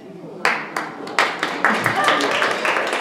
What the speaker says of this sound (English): They're only clapping because they are still alive.